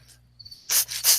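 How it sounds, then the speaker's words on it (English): Crickets chirp during a live sports-betting stream: a faint high tone first, then three loud, close bursts of shrill chirping. "Why do I hear crickets?"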